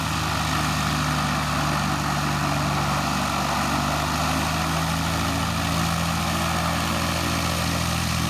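A small propeller airplane engine at an EAA fly-in at Bemidji, droning loud and steady from close by with a constant throbbing buzz and no change in pitch.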